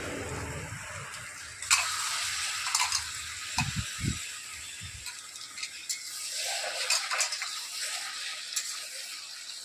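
Hot water is poured into a pan of sautéed Malabar spinach greens for a village-style chorchori, a rushing gush and hiss with a few clanks and rattles of the pan, moderately loud.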